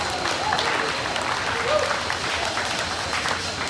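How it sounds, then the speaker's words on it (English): Applause for junior exhibitors at an Arizona market lamb show, a steady wash of clapping from the crowd that holds for the whole stretch, with a brief swell near the middle. "Exhibitors, a big round of applause."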